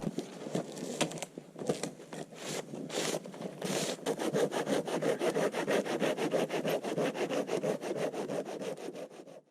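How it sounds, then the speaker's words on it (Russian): A hand saw cuts firewood clamped on a wooden sawhorse in a forest, with uneven strokes at first that settle into a steady, rapid back-and-forth rasp, close and continuous. "Распиловка происходит комфортно. Человек просто стоит и пилит."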